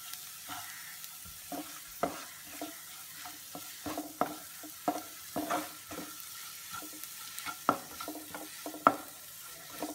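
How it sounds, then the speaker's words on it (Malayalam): Chicken filling for pathiri being sautéed in a pan, with a soft steady sizzle broken by repeated close spoon or spatula scrapes and stirring knocks at an irregular rhythm, and no voices. "ഇതും ഇതിൻ്റെ പച്ചമണം മാറുന്ന വരെ നമ്മൾക്ക് നമ്മളൊന്ന് വഴറ്റിയെടുക്കണം"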